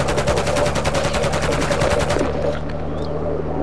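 Rapid automatic gunfire in Call of Duty: Modern Warfare II, a steady stream of evenly spaced shots that cuts off abruptly as the magazine runs dry, followed by quieter ambient game noise.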